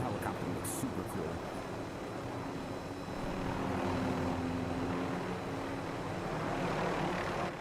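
Rotor and engine drone of a helicopter in the video game Black Ops 6, a steady, fairly loud whir sustained across the scene with a low hum beneath, mixed with game ambience.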